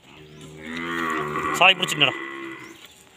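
A gentle dairy cow for sale near Idikarai, Coimbatore, gives one long, loud, close moo that rises and then breaks off, with a voice briefly speaking near the end.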